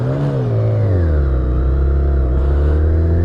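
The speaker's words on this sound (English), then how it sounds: "you can feel that engine" A 2020 BMW K1600 GT motorcycle engine hums loudly up close, its pitch dropping and then holding a steady, throaty idle-to-cruise drone.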